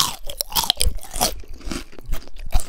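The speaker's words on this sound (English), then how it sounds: "I'm gonna eat a piece with the skin, just so you can hear how crunchy it is." Loud, close crunching of crispy pork belly skin being bitten and chewed, a rapid series of crackly crunches with no talking.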